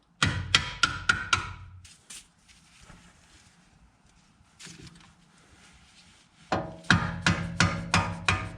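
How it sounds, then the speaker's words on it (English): Sharp rapid metallic taps drive bolts out of a BMW CV axle, one quick burst of about six strikes, a long quiet gap, then another fast run of hammer blows, close and loud. "Tap out the bolts"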